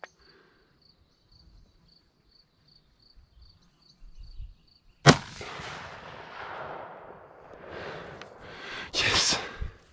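A hunting rifle fires a single loud shot at a fox about 150 metres away at a stakeout, the sharp crack coming after several seconds of near silence with insects chirping, followed by a rolling echo and rustling.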